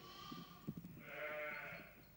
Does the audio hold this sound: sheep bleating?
yes